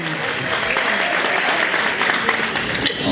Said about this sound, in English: One more round of applause for Patricia Hatcher-Jones.